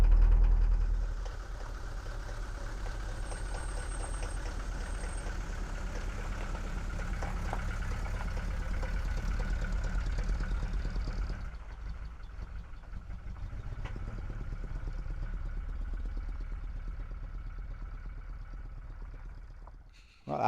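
Diesel engine idles steadily just after starting in a garage, a continuous low rumbling drone that dips briefly partway through before resuming, with no speech.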